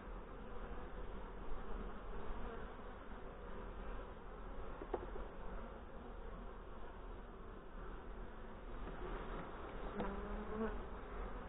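Honey bees in Hive 2 drone in a dense, continuous buzz as the box is opened for a late-September inspection, close and steady with a few brief clicks of handling the frames.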